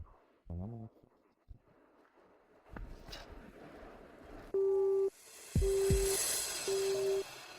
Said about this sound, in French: Son téléphone ne passe pas.